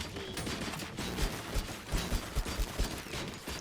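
Rapid bursts of gunfire in the RoboCop: Rogue City video game, a dense fusillade of overlapping shots with several punchy, evenly spaced thumps toward the end.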